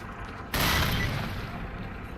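In S.T.A.L.K.E.R: Clear Sky, a grenade goes off with a sudden loud boom, and the blast's rumble trails away with faint background noise behind it.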